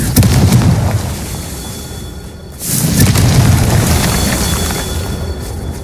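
Confringo blasting spell in Hogwarts Legacy, a heavy booming explosion up front that fades, followed by a second burst of rumbling blast noise, loud and close.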